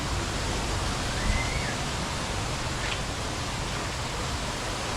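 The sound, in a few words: waterfall in Chiang Mai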